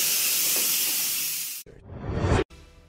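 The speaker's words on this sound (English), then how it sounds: "So this is the steam coming out." Steam hisses out in a steady, broad rush that fades slightly, then cuts off and gives way to a rougher, rising burst of venting before stopping abruptly, with a softer hiss trailing after.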